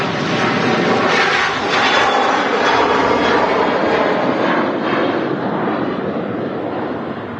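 A SunExpress jet airliner takes off at Manchester Airport, its engines a loud, continuous broadband roar that holds steady and eases slightly toward the end.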